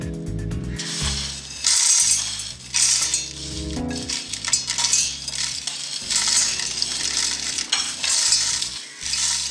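Roasted whole spices for a homemade meat masala are dropped into a mixer-grinder jar, giving a run of dry rattling, clinking and scraping against the jar, loud and close, in uneven bursts with short pauses between handfuls.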